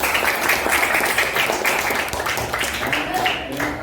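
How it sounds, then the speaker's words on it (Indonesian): A classroom of students claps for a classmate, a dense, moderately loud patter lasting the full few seconds and tapering slightly toward the end. "beri tepuk tangan untuk Alfa"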